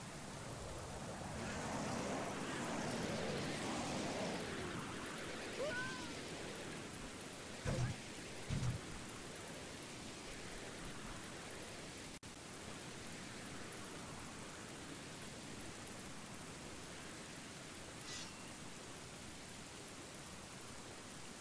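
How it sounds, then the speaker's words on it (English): Rain falls in The Legend of Zelda: Ocarina of Time in Kakariko Village, a steady soft hiss of rainfall with a couple of brief low rumbles partway through. "Alright, rain."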